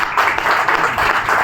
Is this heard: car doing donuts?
no